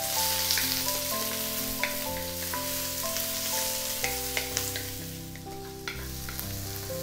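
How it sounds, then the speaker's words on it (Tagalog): Garlic and ginger sauté in an oil-filled pan for a Filipino pinakbet dish, a steady close sizzle with occasional stirring scrapes and light crackles, no talking. "gigisahin ko lang siya sandali bago tayo maglagay ng"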